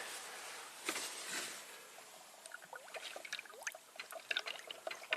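Coolant trickles and gurgles into the separate radiator filler neck of a 2010 Subaru Tribeca H6, a steady close pour with small irregular splashes and bubbling, no talking.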